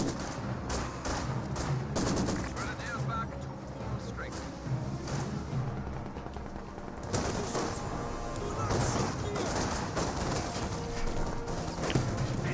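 Gunfire from a WWII strategy video game crackles as close-range volleys of rifle and machine-gun bursts under a continuous game soundscape, steady and moderately loud throughout.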